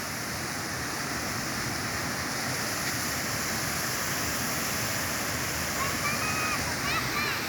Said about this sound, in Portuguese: E ali a gente está indo para a cachoeira.